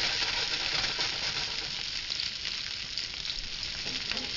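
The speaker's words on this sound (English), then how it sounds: "Put a little olive oil in the pan. We're going to add the vegetables. Don't you just love that sound?" Vegetables sizzling in olive oil in a pan, a steady, fairly quiet hiss of frying that continues without a break and with no voices over it.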